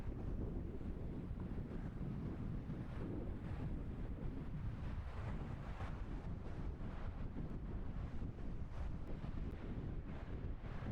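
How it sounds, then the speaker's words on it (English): Waves rolling onto Montrose Beach, a steady loud wash of surf blended with heavy wind buffeting the microphone, continuous throughout with no breaks. "Waves are coming in fast."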